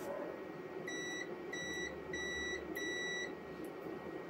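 Four short electronic beeps from a multimeter continuity test on a rewound generator stator sound in a steady sequence over a quiet background hum, clear and close.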